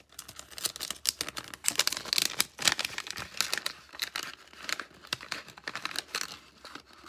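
Packaging is crinkled and torn open to unwrap a gold-coloured medal, giving a close, steady run of rustling, crackling and ripping plastic noises for several seconds with no talking.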